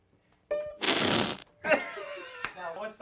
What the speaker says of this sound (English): let's plug in the fart pedal